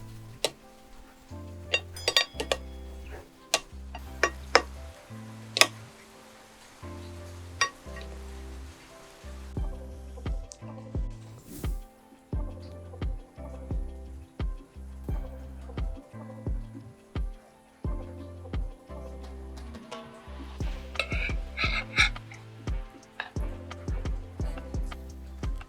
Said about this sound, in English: Add green onion and coriander. And mix for the last time.